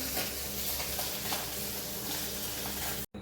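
Fish pieces fry in a pan of hot oil in a home kitchen, giving a loud, dense, steady sizzle that runs almost the whole time, then cuts off briefly near the end.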